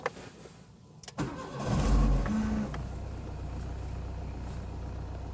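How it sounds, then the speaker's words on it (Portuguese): A car engine cranks with a brief starter whirr, catches and revs up, then settles into a steady, close idle, preceded by a couple of sharp clicks. "Vou funcionar o veículo."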